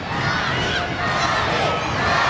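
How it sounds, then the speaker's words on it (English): A wrestling crowd cheers in a dense, continuous roar, loud and close, with shouts rising out of the mass of voices. "You can hear the crowd, though. They're solidly behind Lodi."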